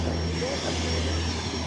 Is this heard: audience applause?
no